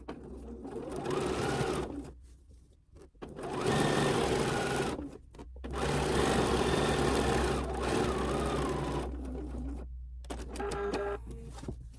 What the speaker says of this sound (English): And then I'll sew down this side.